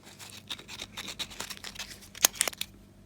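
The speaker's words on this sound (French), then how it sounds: "on peut passer un tout petit coup de papier à poncer" Sandpaper rubbed briefly against a motorcycle starter motor terminal, giving quick rasping scratchy strokes at close range, ending with a few sharper scrapes and clicks.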